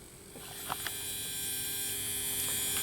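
A small electric motor in the power bogie of a Hornby Jouef Eurostar model train runs with a faint, steady buzzing hum, accompanied by a few light clicks near the start.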